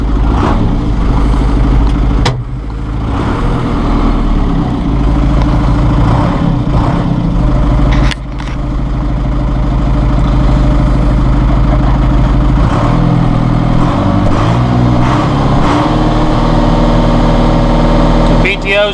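A 2011 John Deere 5101E utility tractor engine starts and idles, a loud, steady diesel rumble close by with a brief dip partway through, while a person talks over it.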